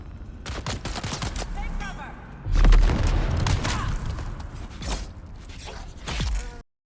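Mauler pistol gunfire in the Dune Awakening video game: rapid bursts of shots with booming impacts and mechanical creaks, steady and fairly loud across the whole stretch, with a heavier thump midway.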